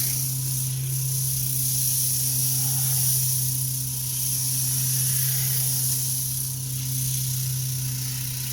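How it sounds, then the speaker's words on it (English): Sandpaper rubs back and forth on a spinning wooden cup on a lathe, a steady hiss of 100-grit sanding over the constant hum of the motor, close and continuous, with no talking. "move your sandpaper back and forth"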